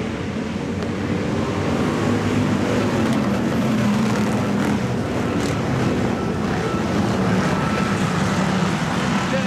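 IMCA Hobby Stock race cars roar around the Salina Speedway dirt track, a dense, continuous wash of engine noise that stays loud and steady throughout, with no voices heard.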